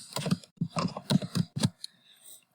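Keys on a computer keyboard tap out an answer in a quick run of distinct clicks with brief pauses, close and fairly quiet, ending in faint background noise.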